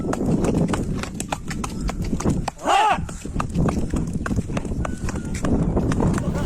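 A horse's hooves clip-clop in a quick, steady beat during a one-wheel stunt, with a brief rising whinny midway and background commotion running throughout.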